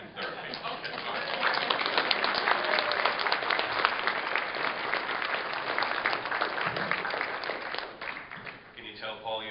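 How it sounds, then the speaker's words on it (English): An audience at a panel event gives a round of applause, with sustained, dense clapping that swells and then tapers off toward the end. A voice speaks briefly under it. "can you just give me a round of applause?"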